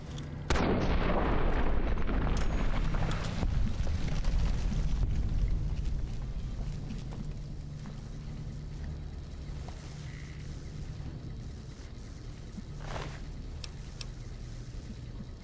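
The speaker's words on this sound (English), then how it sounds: "Theoretically, everyone should be safe from this explosion." A video game explosion in Fallout: New Vegas, with a loud booming blast early on that settles into a long rumbling roar and scattered crackles, sustained and heavy throughout.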